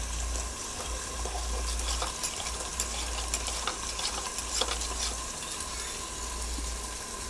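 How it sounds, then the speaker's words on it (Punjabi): Cornflour is stirred into water to make a slurry for a restaurant-style chilli chicken gravy. It sounds like steady close-up stirring and swishing of liquid, running continuously over a low hum, with no voices. "ਇਹ ਲਿਆ ਆਪਾਂ ਕੌਰਨ ਫਲੋਰ ਤੇ ਇਹਦੇ ਚ ਆਪਾਂ ਵਾ ਰਲਾ ਲਾਂਗੇ ਪਾਣੀ ਨਾਲ"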